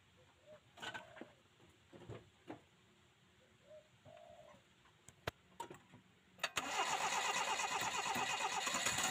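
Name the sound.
small engine starting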